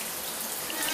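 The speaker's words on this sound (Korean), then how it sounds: "어디선가 달팽이관을 타고 들리는 물소리." Steady hiss of water running from a tap into a home bathroom sink, continuous and fairly close with no voices.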